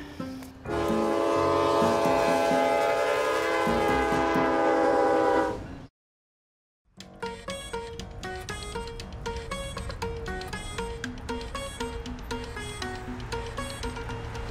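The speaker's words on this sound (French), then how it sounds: "Malheureusement, il faut attendre que les trains passent." Freight trains roll through La Broquerie, Manitoba, with a loud, sustained horn blast over rumbling cars, a brief silence, then steady clattering wheels and repeated rhythmic clanks of rail cars passing close by.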